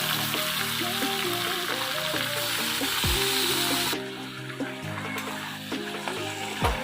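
Spiced chicken sautéed in a pan for a Bengali chicken and potato curry, giving a continuous close sizzle with occasional stirring scrapes, loud and steady throughout with no speech.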